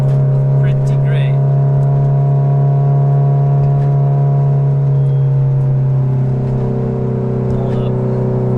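A 500hp 2008 Subaru STI with an external wastegate running 23 psi of boost pulls hard, its engine drone loud and steady throughout with a rising pitch near the end, heard from inside the car.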